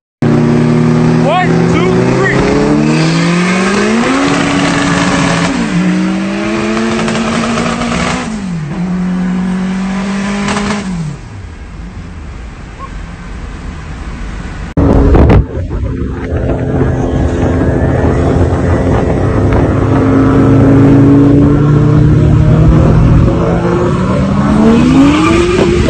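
A 700-horsepower Honda Civic and a 600-horsepower Nissan 240SX race hard, engines revving loudly through repeated rising gear pulls and shifts, with a brief burst midway, continuous and close throughout.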